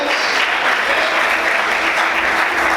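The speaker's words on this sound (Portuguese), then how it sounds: "Será que você pode aplaudir o Senhor nessa noite" Church congregation applauding during a worship service, a dense, steady wash of many hands clapping at full level throughout, with no pauses.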